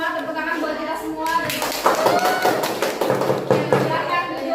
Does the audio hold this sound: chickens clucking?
no